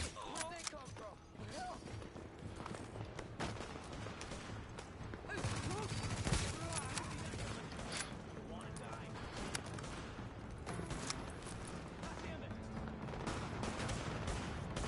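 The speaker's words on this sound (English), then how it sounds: "I'm gonna shoot them in the head" Gunfire in the shooter game The Division, with a carbine in use, comes as dense, continuous bursts of shots and battle noise throughout, while players talk over it.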